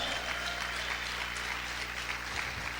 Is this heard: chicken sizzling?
no